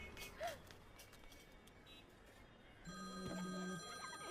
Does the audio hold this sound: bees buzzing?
no